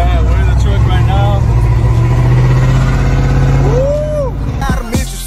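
Truck engine heard from inside the cab, a steady low idle rumble with slight revving throughout, loud and close, with a whooshing swoop near the end.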